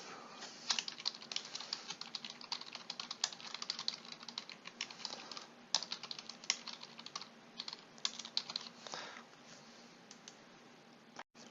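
Fingers tap quickly on a computer keyboard, a steady run of close, light key clicks with brief pauses, ending in a single louder click, with no talking.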